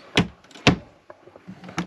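Cabinet door in a 2008 Forest River Wildcat 29RLBS travel trailer opening and closing, two sharp close knocks followed by softer rattles and small bumps nearby, no talking.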